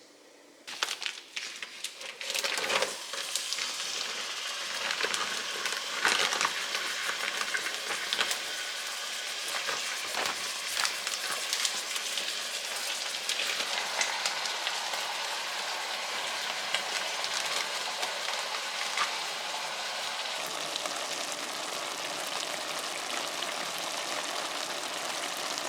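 Ground meats hit a Dutch oven with a little olive oil and break into a loud, dense, continuous sizzle that holds steady throughout, close and without voices.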